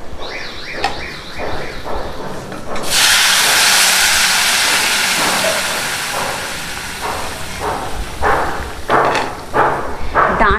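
Water poured into a pan of fried aubergine bursts into a loud hissing, steaming sizzle that surges suddenly, then fades into uneven bubbling and spitting, close up.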